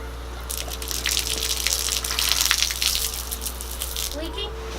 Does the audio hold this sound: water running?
yes